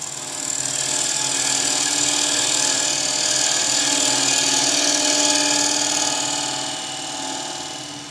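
A skew chisel cuts a wooden bowl spinning on a lathe, giving a steady, loud, close whirring hiss that swells slightly and then eases toward the end, with no talk.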